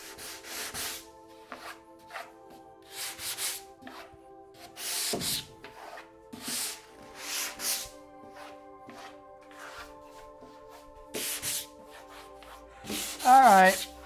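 Wood of an arcade cabinet is sanded by hand in short, scratchy strokes, bursts of hissing friction separated by pauses, with a faint steady hum underneath.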